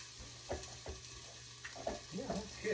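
Asparagus and onions sizzle in a pan while being stirred, soft frying crackle under a few close scraping and clattering stirs, fairly quiet, with no talking.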